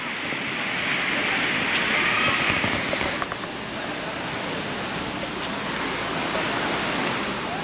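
Steady, loud rush of falling water at Than Thong Waterfall, Nong Khai, Thailand, fills the whole stretch, a dense roar with no pauses and no voices.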